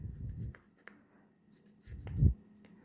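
Pen scratching by hand on paper, a couple of short soft bursts of writing separated by near silence, fairly faint and close.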